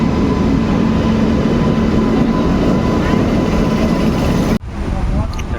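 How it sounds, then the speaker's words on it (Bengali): A train pulls into a station near Tirupati, a loud continuous rumble and rolling hum that cuts off abruptly near the end, leaving quieter ambient noise. "ট্রেন ঢুকে গেল এবার"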